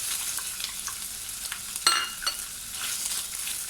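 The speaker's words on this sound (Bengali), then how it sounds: "আমার 1 মিনিট ভাজা হয়ে গেছে চিকেনটা" Boiled chicken and chopped onion frying in a pan, a steady close sizzle with crackling pops and a brief clatter near the middle, no voices.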